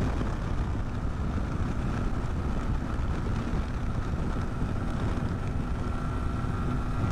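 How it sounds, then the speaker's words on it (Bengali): Strong wind rushes steadily and loudly under a darkening pre-storm sky during a motorcycle tour in Feni, a continuous broadband roar with no speech. "প্রচুর পরিমাণে বাতাস"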